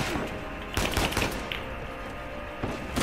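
Rapid gunfire in the video game Uncharted 4, a dense steady fusillade of shots with a few heavier bursts, loud and continuous throughout.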